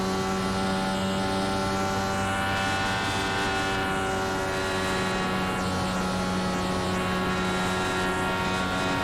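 An IndyCar in the iRacing video game at Atlanta running at half throttle, a steady buzzing engine drone with a sustained tone that holds level throughout without any rise or fall.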